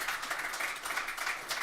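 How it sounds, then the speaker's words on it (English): Applause from the audience at a panel event on London nightlife, a brief, fairly quiet burst of many hands clapping, steady and without voices. "everyone should give him a round of applause for being here"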